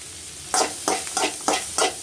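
Onions, ginger, garlic and green chillies sizzling in butter in a pan, with a steady frying hiss broken by four or five sharp scraping stirs in a quick, regular rhythm, close and fairly loud.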